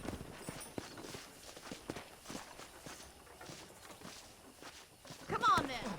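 Horse hooves and footsteps clop along a ranch property in Red Dead Redemption, a steady walking rhythm under game dialogue, with a louder cluster of hoof hits near the end.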